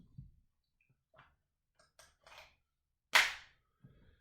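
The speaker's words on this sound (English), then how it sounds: "you just take these BBs and dump them in here, and it'll load 16 rounds" BBs are poured into the magazine of an Umarex Glock 19 BB gun, giving faint scattered metallic clicks and rattles and one louder clatter near the end, heard alone in a quiet room.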